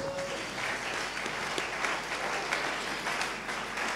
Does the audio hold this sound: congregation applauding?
yes